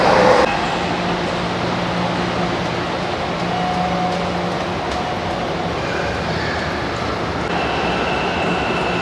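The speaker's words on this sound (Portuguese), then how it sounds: "o metrô aqui é muito rápido, na Faria Lima" São Paulo metro train riding at speed near Faria Lima, a loud, steady rumble and rushing hiss heard from inside the car, with no talk.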